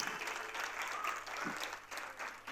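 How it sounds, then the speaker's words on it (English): An audience at a school prize ceremony applauds parents called to the stage, with a steady wash of fairly faint, distant clapping throughout. "Keep clapping, dear parents."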